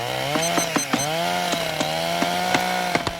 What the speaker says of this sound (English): I told you to lose that chainsaw.